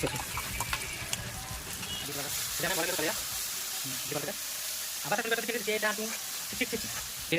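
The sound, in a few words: onion and garlic paste frying in a pan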